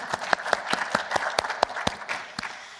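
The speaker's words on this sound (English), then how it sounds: "Let's have a round of applause for Gabriel." Conference audience at a Humans to Mars summit applauds a speaker, with a sparse crowd clapping and a few sharp, distinct claps standing out near the front.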